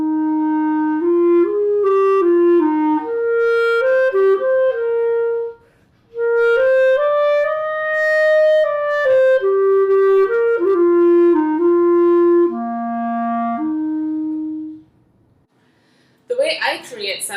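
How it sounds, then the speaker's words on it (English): A solo clarinet plays a slow, clear melody of held and stepping notes with a short pause in the middle, close and alone, followed by a brief burst of voice at the end. "This is what the clarinet sounds like."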